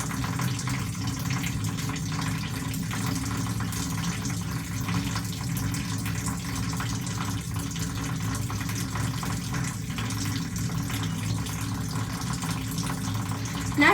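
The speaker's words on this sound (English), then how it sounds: "Next is rotational rubbing backwards and forwards of the clasped fingers of the right hand in the left palm and vice versa" Steady tap water runs continuously into a sink during medical handwashing, with a faint wet rubbing of clasped fingers against the palm mixed into the even, close flow; no talking.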